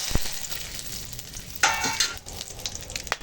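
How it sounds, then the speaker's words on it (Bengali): Whole garam masala and bay leaves crackle in hot oil for a tempering, a steady close sizzle with a sharper burst of spitting midway and a few light clinks. "এখানে আছে গোটা গরম মশলা আর তেজপাতা, দিয়ে দেবো ফোড়নে"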